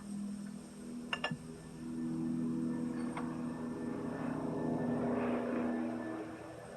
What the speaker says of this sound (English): Pardon the helicopters.